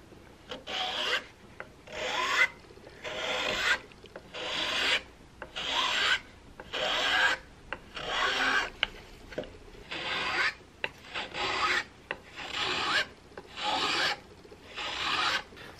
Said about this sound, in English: I have shaped my neck a little bit here with a combination of the files and the scraper